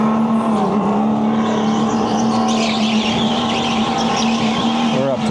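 A go-kart on an indoor race track accelerating to about half speed, its engine droning at a steady high pitch, loud and close, with tire and wind noise building over the run.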